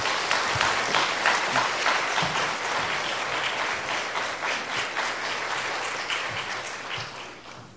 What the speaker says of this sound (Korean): 우리 교수님 크게 우리 격려의 박수로 모시겠습니다